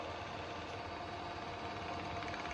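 A CIMA P4AUR hydraulic gear hobbing machine runs at fast feed, giving a steady, faint mechanical hum with a light, even whir throughout and no voices.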